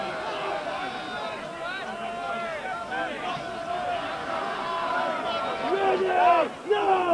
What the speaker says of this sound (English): Crowd appeals unjustified.